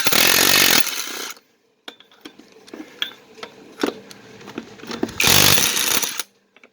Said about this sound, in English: I'm going to try to use the Sevum impact gun